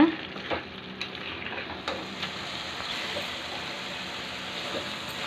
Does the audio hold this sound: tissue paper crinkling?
no